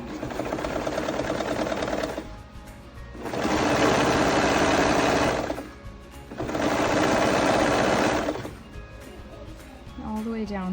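A sewing machine stitches a seam on a simple sundress, running in two loud, steady buzzing bursts of a few seconds each, separated by quieter pauses.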